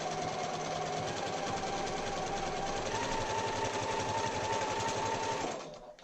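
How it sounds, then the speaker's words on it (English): A sewing machine stitches quilt block seams along a pink line in a fast, continuous mechanical whir with a steady hum. It runs alone, close and loud, and winds down in the final half second. "sew just on the inside of that pink line, closer to the center cutting line"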